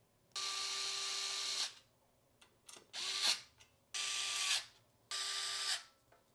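A power drill drives large wood screws to secure a wall-mount 4U network rack, with four separate whirring bursts, each lasting about a second. Brief clicks and handling noises fall between them, close and fairly loud.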